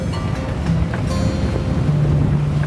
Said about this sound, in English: the wind has kicked up something fierce